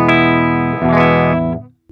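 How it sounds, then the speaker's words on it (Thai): Electric guitar played through a Tech 21 RK5 Fly Rig effects pedal into an amp return, a sustained strummed chord ringing with distortion and a second struck chord before it cuts off, loud and alone. "ลองฟังแบบยังไม่เปิดเอฟเฟ"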